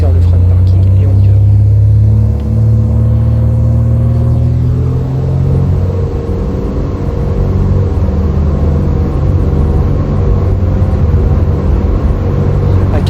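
Twin engines of a Beechcraft Baron 58 in X-Plane 11 throttle up for takeoff, a loud steady droning rumble whose pitch rises gradually as power increases, with a continuous low engine tone throughout.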